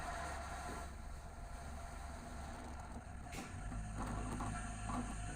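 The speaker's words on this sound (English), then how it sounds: "The rumble that comes from that engine as the rocket is taking off is just incredible." Deep, steady rumble of the BE-3 engine as a Blue Origin New Shepard rocket lifts off on the NS-14 launch, a continuous low roar heard from a distance with no voices over it.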